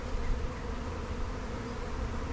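A honeybee swarm hangs in a tree, giving off a steady, dense buzzing hum that holds at an even level with no gaps or voices.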